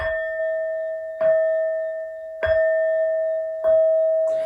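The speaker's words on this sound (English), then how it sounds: "These next four bell sounds are to align us and to bless this reading." Four bright bell strikes before a tarot reading, spaced evenly about a second apart, each ringing out with a long sustained tone that fades before the next.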